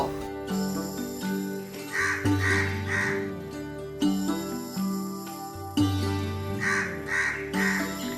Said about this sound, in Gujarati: કાગડો કા કા કા બોલવા લાગ્યો